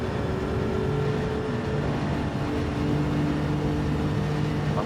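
Race car engine in a racing game at Le Mans, running high in sixth gear as a steady, sustained drone with a slowly rising engine tone and constant loudness, without talking over it.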